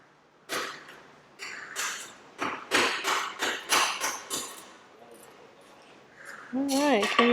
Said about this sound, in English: To move this, we have to angle the scraper and gently knock it off.